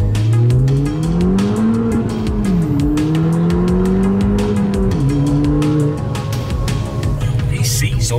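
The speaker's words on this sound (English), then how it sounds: "The ST180 is, as the name suggests, a 180 brake horsepower front-wheel drive pocket rocket." A Mountune Fiesta ST180, a 180 bhp front-wheel-drive hatchback with a six-speed manual, drives hard. The engine note rises and falls through the gears, with some tyre squeal and a person talking over it.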